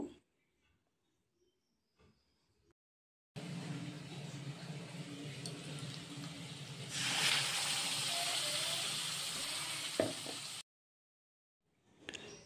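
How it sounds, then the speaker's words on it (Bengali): Spices for chicken kosha sizzle in hot oil in a home kitchen, a broad hiss that begins suddenly, swells partway through, then cuts off, with quiet gaps before and after. "তো ভালো করে ফ্রাই করে নেব।"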